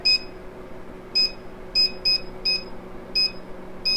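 An oven timer beeps as it is set, seven short high electronic bleeps spaced irregularly, close and clear over a quiet kitchen hum.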